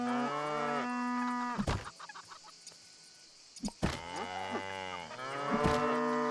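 A cow in the barn of the farming video game Everdream Valley lets out several loud, drawn-out moos with short pauses between them, close and clear, with no talking.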